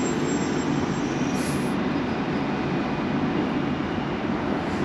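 A London Underground Central Line train, heading toward Hainault, gives off a continuous low, even rumble near Leytonstone, with a brief high whine at one point.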